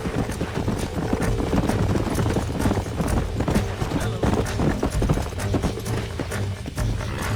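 Horse hooves clip-clop steadily in the video game Red Dead Redemption, a continuous loud rhythmic trotting with occasional whinnies over a busy ambient background.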